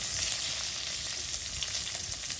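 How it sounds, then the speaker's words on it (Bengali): Ginger and garlic fry in hot oil with a loud, continuous close sizzle and crackle throughout, with no talking. "তেলটা গরম হয়ে গেছে, তেলের মধ্যে আমি একে একে সব উপকরণগুলো দিয়ে দিচ্ছি।"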